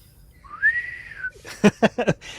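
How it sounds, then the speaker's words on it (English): A person whistles a rising, sustained tone followed by four short, sharp whistled bursts in quick succession, close and fairly clear with no talk. "My microphone blocked my whistle"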